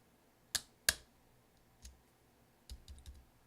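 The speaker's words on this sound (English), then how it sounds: "we're just going to press down until we hear it click." Replacement O key being pressed onto an early 2011 13-inch MacBook Pro keyboard, giving two sharp, close clicks followed by a few fainter, quieter taps and clicks, with no talk.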